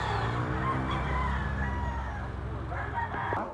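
A nine-month-old bullstag rooster crows loudly and close over a dense, steady farmyard background, with a second call rising near the end.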